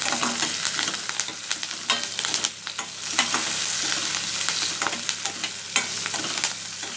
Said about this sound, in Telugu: ఇప్పుడు జీలకర్ర ప్లస్ అల్లం ముక్క, కరివేపాకు, ఒక రెమ్మ కరివేపాకు, పెద్ద రెమ్మ అన్నమాట. అన్నీ బాగా వేగనివ్వాలి.